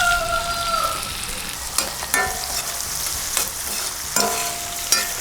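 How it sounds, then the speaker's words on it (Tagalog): Whole canned mushrooms, cut in half, sauté in olive oil with onions and garlic, giving a steady close sizzle with occasional sharp scrapes and clacks of a spoon stirring the pan. "Just saute the mushrooms for a while."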